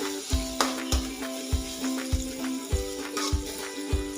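Capsicum frying in a pan for Chinese noodles, a steady sizzle with regular scraping stirs about every half second, close and moderately loud with no talk.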